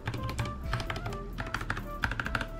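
Typing on a keyboard fitted with custom resin and polymer clay keycaps gives a quick run of soft, close clacks and taps, quiet and alone.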